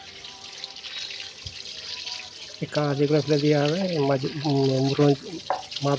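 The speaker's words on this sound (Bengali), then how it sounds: "মাছটা ধোয়া হচ্ছে এখন ভালোভাবে, ভালো করে ধুতে হবে মাছকে" A kitchen tap runs over fish being washed, a soft continuous water hiss that is quickly covered by someone speaking close up for most of the clip.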